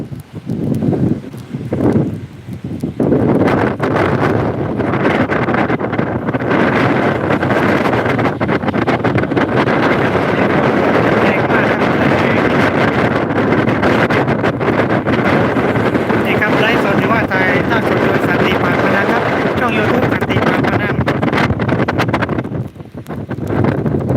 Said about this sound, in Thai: ก็คลื่นแรงครับ ชายทะเล อำเภอปากพนังจังหวัดนครศรีธรรมราชนะครับ